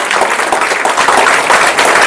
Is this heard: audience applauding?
yes